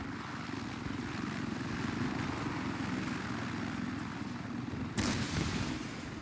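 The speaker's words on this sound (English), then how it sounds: "Oh, that's a chopper." Helicopter in the military game Project Reality, a steady rotor and engine drone that holds throughout, with a single sharp bang near the end.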